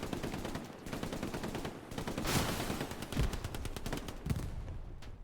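Rapid machine gun bursts rattle through a Hell Let Loose battle at Carentan, dense crackling gunfire filling the scene with a few heavier nearby shots standing out and no talking.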